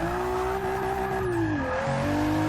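A Nissan 300ZX fitted with aftermarket intake and exhaust mods revs hard, its engine note rising and dipping across a couple of throttle blips, loud, gritty and continuous with no talking.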